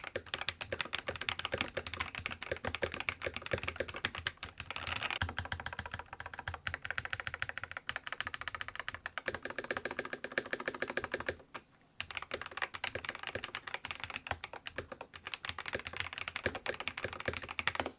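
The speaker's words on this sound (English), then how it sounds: "here's a quick type test for you guys to hear what this thing sounds like while using Razer's orange tactile" Continuous rapid typing on a Razer BlackWidow V4 75% keyboard with orange tactile switches, close and steady with dense clacks and a brief pause near the middle, no voices.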